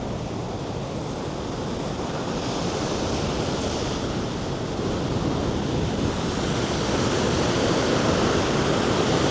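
Vøringsfossen waterfall in Norway roars as a constant, dense wash of rushing water, loud and close, with some wind buffeting and no voices.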